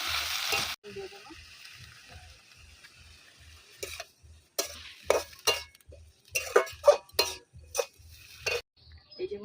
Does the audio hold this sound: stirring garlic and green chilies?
yes